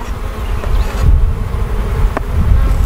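Honeybees at an open hive during an inspection, with hive beetles present, fill the clip with a steady, close, continuous buzzing hum that swells slightly but never stops.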